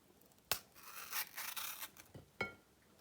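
A knife slices bell peppers lengthwise on a board: a few short, scraping cuts up close, with a quiet gap between strokes and no talking.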